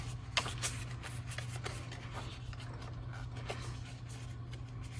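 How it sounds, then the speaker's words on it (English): Paper pop-up card being folded and popped open, in a papercraft session with a Stampin' Up! triple pop-up fun-fold design: soft papery rustles and brief crisp flicks, one sharper snap near the start, over a steady low hum. "So let's fold this and pop this up, fold this,"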